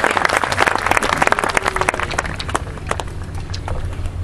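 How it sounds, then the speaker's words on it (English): A room of people applauds students at a school ceremony, with loud irregular clapping up front that thins and softens toward the end, with some shuffling mixed in. "Let's have a round of applause for their outstanding work."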